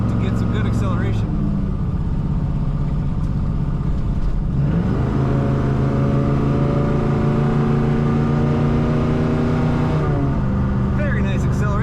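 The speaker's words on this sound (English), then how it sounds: "Very nice acceleration in this somewhat large car being a wagon." A 1963 Ford Galaxie Country Squire station wagon's engine climbs steadily in pitch as it accelerates on the road, rising again after a gear change, loud and close throughout.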